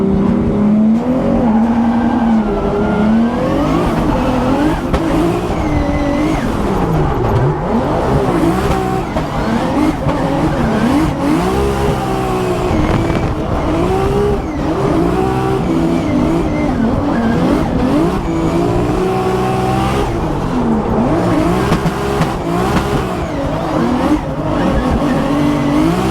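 A Formula Drift car on a lead run in the top 32 round, engine snarling and revving hard while its tires squeal in long, wavering shrieks, loud and continuous throughout.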